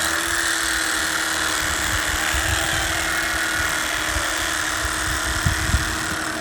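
An electric fillet knife working along a catfish's backbone from the tail, giving off a loud, steady motor whir that runs unbroken with slight rumbling variation.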